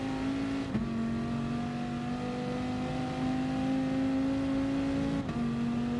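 Engine of a Dodge Viper race car on a Nordschleife straight in Gran Turismo Sport, a loud sustained rising drone broken by two quick upshifts, with no voices.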